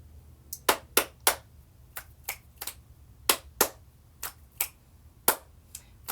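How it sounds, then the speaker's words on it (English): Sharp hand claps and finger snaps in an irregular sequence, about a dozen crisp hits, close and alone against a quiet background. "Clap snaps are feeling pretty good today."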